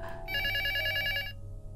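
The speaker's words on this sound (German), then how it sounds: "Was für ein ätzender Klingelton." A telephone ringtone in the horror video game Luto trills loudly as one sustained electronic ring lasting about a second, then cuts off abruptly to a quiet background.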